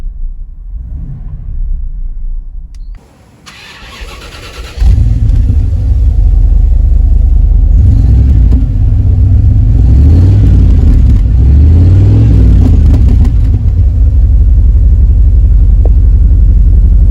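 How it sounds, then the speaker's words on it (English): A Bentley Turbo R engine cranks and fires, then settles into a loud, deep, steady rumbling idle with occasional swells of revving, heard up close for the rest of the stretch. "We'll have a listen to that engine from the inside, outside"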